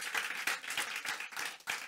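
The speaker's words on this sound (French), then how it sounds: "Vous pouvez applaudir, ça fait plaisir." Audience clapping at an evening awards ceremony for advertising trophies, a short burst of fairly quiet applause with uneven, pulsing swells and no voices over it.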